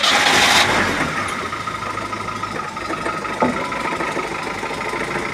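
A UAZ with a 417 engine, valves just adjusted, idles steadily with a low, rumbling throb, a faint knocking running through it and a brief sharper clank midway.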